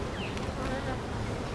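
Honeybees hum in a dense, steady drone close by as a hive is opened and inspected, with a faint muffled voice underneath.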